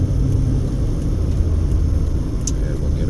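A car on a Las Vegas road near the Summerlin Parkway interchange: a steady low rumble of traffic and engine noise, fairly loud and unbroken, heard from inside a moving vehicle, with no voices.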